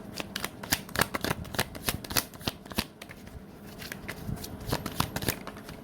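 A deck of tarot cards is shuffled close by, a rapid run of crisp riffling snaps and soft flutters that comes in quick bursts and continues without talk.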